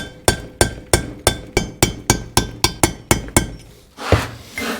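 Metal parts of a Hitachi EX120-2 excavator swing device are struck with a makeshift tool in place of a ball peen hammer. About a dozen sharp, ringing clanks land in a steady rhythm, followed by a duller scraping thud.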